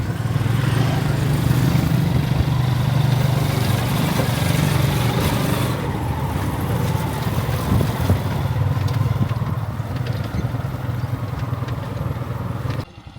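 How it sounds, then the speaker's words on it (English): A motorbike pulls a remorque cart through Cambodia, its engine droning loud and steady throughout with a low rumble and slight shifts in pitch, easing off briefly near the end. "a remorque is quite different from a tuk-tuk in that it has a motorbike pulling along a cart"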